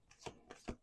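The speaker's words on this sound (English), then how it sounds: "Last shuffle." Close shuffling of a deck of reading cards, three quick soft bursts of riffling and sliding card stock in steady rhythm, heard alone.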